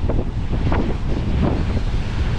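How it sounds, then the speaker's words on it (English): Strong wind blows across a rough coastline near a beach on a wet, windy weekend, giving a loud, continuous buffeting roar on the microphone with a wash of surf beneath. "A bit more protected from the wind here. Still pretty rough."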